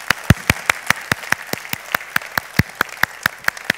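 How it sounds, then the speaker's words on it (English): Audience at a corporate interview event for Jotun claps after the conversation, crisp separate handclaps in a quick, fairly regular rhythm that sounds like a small crowd, close and clear with no voices. "Another round of applause for Mona Hussein and Marian Bahadur"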